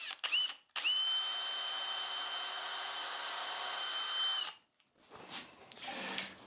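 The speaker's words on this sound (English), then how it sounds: "I'm going to do a bit more drilling to make sure, because I don't want the wood to split" A power drill bores pilot holes into wood for a beginner stepstool, a steady high whine running for about four seconds alone before stopping, followed by faint handling noises.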